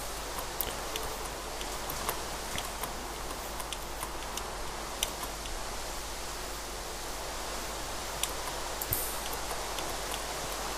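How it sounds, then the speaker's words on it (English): Rain falls in the video game Minecraft as a steady, soft hiss with faint scattered ticks of drops, quiet and continuous and without any talk. "Why does it have to rain?"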